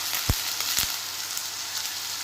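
Potatoes fry in a pan over medium heat, a steady close sizzle with a couple of brief low knocks near the start.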